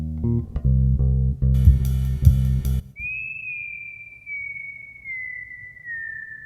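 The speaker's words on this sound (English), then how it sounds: "And I really like this whistling style synth effect." A bright, sustained whistle-like synth tone glides slowly downward and lingers alone after a short burst of low, buzzy chords.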